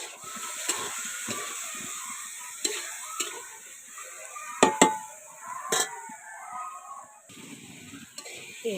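Vegetables frying with light spices in an old wok over a clay stove, a soft steady sizzle with occasional stirring clicks and scrapes, close and moderately quiet with no talk.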